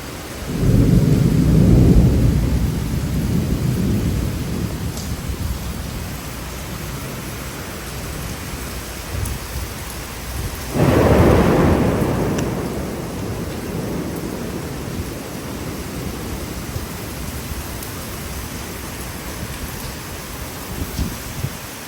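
Steady heavy rain with two deep rolls of thunder in Singapore, one near the start and another midway, each fading slowly back into the downpour.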